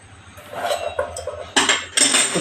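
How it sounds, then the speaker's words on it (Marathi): Hot tempering poured over freshly mixed mango raita in a bowl, giving a quick burst of sizzle and clinks of a metal pan against the dish near the end, close and fairly loud. "हे आपण फोडणी सगळी त्याच्यावर घालणार आहोत."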